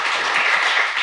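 A short burst of audience applause, dense clapping from many hands filling the space without pause.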